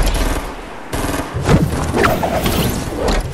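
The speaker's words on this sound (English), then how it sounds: "Oh my god, I'm getting shot at!" Rapid bursts of gunfire from a Fortnite match crackle in close, dense volleys that keep going through the whole stretch, with occasional thuds mixed in.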